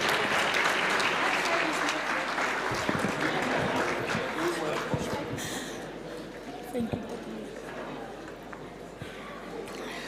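Steady audience applause at an education awards ceremony, a dense sustained wash of clapping from a large crowd that holds for about ten seconds and eases slightly toward the end.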